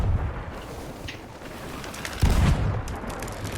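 Muffled booms and rumbling blasts of game cannon fire over a noisy backdrop, with one heavier, louder impact near the middle.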